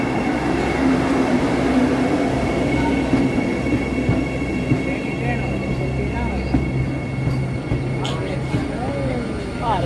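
Inside a Namo Bharat rapid rail train on the Bhuj to Ahmedabad route, a steady rumble of the running train continues throughout, with faint wheel squeals, and people talk over it.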